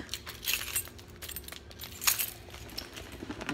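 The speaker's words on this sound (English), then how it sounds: "I have my keys." Keys jangle in a tote bag, with several light metallic clinks and rattles scattered over a few seconds, close to the microphone and with no talking.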